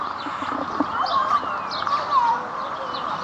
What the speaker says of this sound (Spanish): Ah, mira, hay pavos.